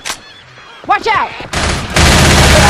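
Someone shouts over rapid gunfire in Left 4 Dead 2: a burst of shots crackles in, then a louder, sustained volley of automatic fire takes over near the end.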